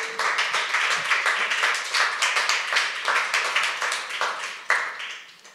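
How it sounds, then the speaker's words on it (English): A live audience claps in a round of applause for two presenters at a public talk on art and public space, dense continuous clapping that stays fairly steady and close throughout. "can we just get a quick round of applause for both of our presenters?"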